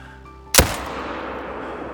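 A single sharp hunting-rifle shot in a video game hunting for Himalayan tahr, loud and close, with a short decaying echo over quiet ambience.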